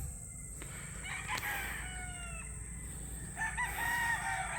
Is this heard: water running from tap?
no